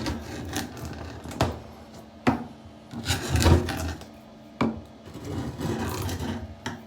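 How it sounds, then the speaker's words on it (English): Old chisel scraping silicone sealant off a shower base, a repeated rasping, grinding scrape with sharp strokes and short pauses, close up with no speech. "Then we'll get our old chisel and start scraping this off."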